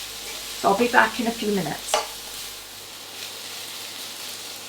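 Onions and carrots fry in a pan with a steady close sizzle, briefly under a man's short remark and then alone.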